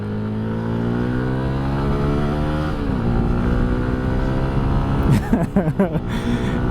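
A 2022 CFMoto 300SS sport motorcycle engine revs and pulls through the gears, its pitch climbing steadily before a sharp shift and a burst of choppy throttle near the end.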